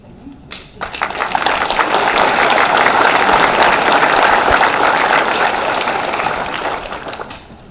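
A convention audience at a comic con Q&A with William Shatner breaks into sustained applause that swells after a brief start, stays loud and dense for several seconds, then slowly tapers off.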